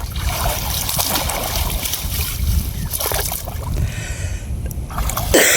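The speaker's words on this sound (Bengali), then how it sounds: "জালি অনেকে সুন্দর করে ধুয়ে লইতেছে পরিষ্কার করে" Fishing net rinsed and sloshed in water after a catch of climbing perch, with continuous close splashing and trickling, and a brief sharper splash at the end.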